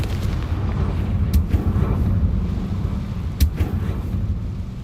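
The Confringo fire spell from the Hogwarts Legacy video game lets off deep rumbling booms with a couple of sharp cracks on top, a loud, dense stretch of game explosion sound with no speech.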